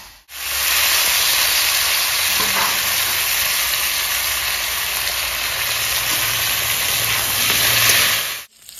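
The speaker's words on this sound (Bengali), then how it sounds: "কচু আর কাঁচা কলা একসঙ্গে ভেজে নেবো।" Taro and raw plantain frying together in hot oil give a loud, continuous sizzling hiss that runs unbroken from start to finish, then cuts off abruptly.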